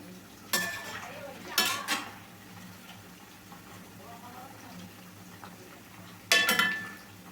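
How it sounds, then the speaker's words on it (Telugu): Gobi manchurian frying in a pan is stirred with a utensil, producing a few sharp metallic scrapes and clinks over a faint background sizzle. Nearby speech is also heard. "ఒక్కసారి కలుపుదామండి నిదానంగా ఒక్కసారి అయితే కలుపుకోవాలి"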